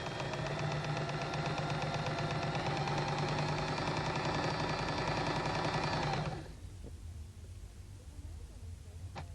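A Janome Nouveau sewing machine running steadily as it stitches around a fabric patch, a loud rapid mechanical chatter that stops abruptly near the end, leaving quiet room tone.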